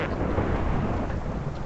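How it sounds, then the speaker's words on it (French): Thunderstorm in the Minecraft video game, a steady, full rumbling roar of thunder and rain that holds at constant strength throughout. "Ouf, il y a des éclairs là dehors."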